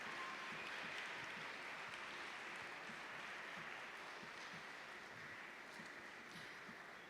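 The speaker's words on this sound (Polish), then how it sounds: "Now, big hand of applause for Kasia." An audience at a University of Warsaw educational session applauds, a steady soft wash of clapping that stays even throughout and fades slightly toward the end.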